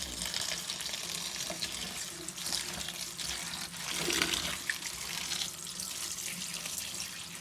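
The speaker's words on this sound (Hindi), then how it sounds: "सारा साग भी ऐसे ही धोना है और पालक भी ऐसे ही धोनी है।" Mustard greens and spinach are rinsed in water, a continuous running splash and swish with small sloshing surges, close and without talk.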